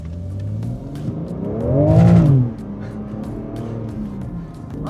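A 2022 BMW G80 M3 Competition xDrive accelerates on a closed course, its engine note rising to a loud rev, then dropping back to a steady hum heard from inside the car.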